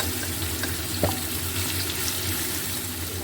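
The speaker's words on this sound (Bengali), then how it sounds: "বাকি সবজিগুলো এইভাবে এই তেলের মধ্যে ভেজে নেব।" Winter vegetables frying in oil give a steady, even sizzle with a low background hum and a single soft clink near the middle, with no voices.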